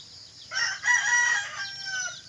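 A mother hen with her chicks gives a short, raspy, drawn-out call up close, rising and then trailing off, over faint background noise.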